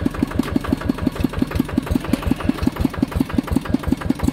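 Car engine running steadily as the car is driven up onto a ramp at a repair shop, with a rapid, even chugging pulse and mild knock, close and loud, no talking.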